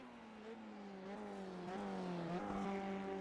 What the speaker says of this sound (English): a car is just pulling out onto the track right now